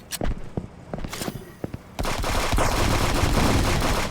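Rapid gunfire from a shooting video game, first a few separate sharp shots, then a dense, continuous burst of automatic fire filling the second half.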